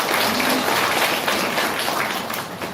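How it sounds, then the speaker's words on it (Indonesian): A church congregation applauds steadily during an Easter sermon, dense and loud clapping that continues throughout before easing slightly at the end. "Tepuk tangan untuk komitmen pertama."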